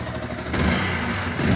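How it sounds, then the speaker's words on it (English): A two-stroke Yamaha RD350 YPVS motorcycle engine runs nearby with a steady, raspy drone that swells slightly toward the end. "this bike is now a running motorcycle."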